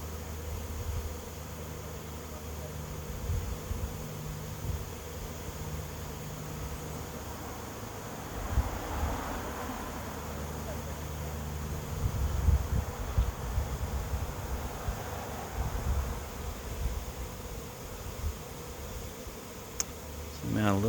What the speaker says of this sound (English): There's still bees coming in, but most of the swarm is either inside the box or attached to the box.